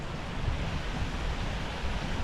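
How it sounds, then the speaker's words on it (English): Water running down from higher ground, flowing under a farm road and dropping through below, heard as a steady, broad rushing wash close by with no voices. "there's water running down from up there, going underneath the road and dropping down through there"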